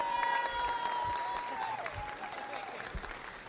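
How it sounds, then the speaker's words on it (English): Dense, steady audience applause at a national fullblood doe goat show, clapping loud and continuous throughout with a faint tonal hum above it. "let's give Kim a big round of applause"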